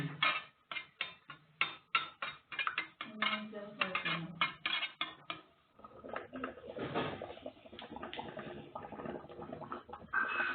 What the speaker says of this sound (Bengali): এভাবে ভালোভাবে ডিমগুলোকে ফেটিয়ে নেবেন সামান্য লবণ দিয়ে